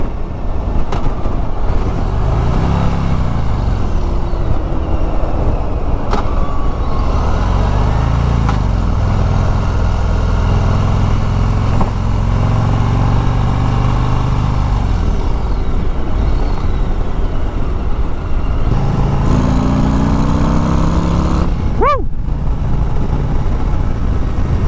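A Harley-Davidson Road Glide CVO motorcycle with a 117 engine rumbles steadily during a demo ride at an outdoor show, a loud continuous low engine drone with rising and falling revs and wind noise.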